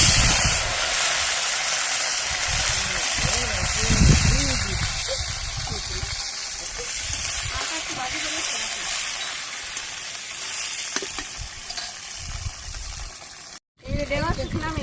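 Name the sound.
okra frying in oil with cumin, bay leaf and fenugreek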